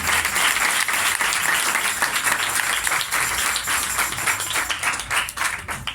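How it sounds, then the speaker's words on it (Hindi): A church congregation claps loudly and steadily in a dense, continuous burst of applause filling the room, with no break for its full length. "सब आप अपने लिए भी जोरदार तालियां बजाएंगे"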